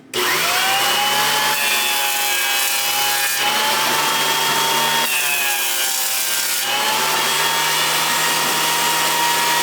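Benchtop jointer with a segmented carbide cutterhead machining a short piece of cedar, a loud continuous whining drone whose pitch shifts slightly as the wood is fed through in passes.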